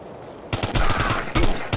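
Rapid gunfire in Ghost Recon Future Soldier comes in two short, loud bursts of automatic shots separated by a brief pause, after a quiet moment at the start.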